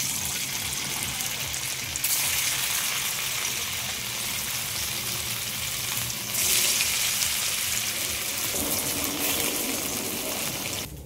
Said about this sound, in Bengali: এবার এগুলো সব এক একটা করে এবার আমি ভেজে নেব